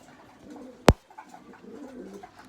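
Pigeons coo softly at close range in a low, murmuring rhythm, interrupted by one sharp, brief click or knock, then the gentle cooing continues.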